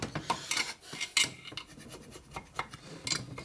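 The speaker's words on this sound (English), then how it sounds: "Take your file and knock off the high spots" Hand file rasping off high spots on a 4-speed transmission part from a 1965 Harley-Davidson Panhead, light scraping strokes in an uneven rhythm, close and fairly quiet, with no talk.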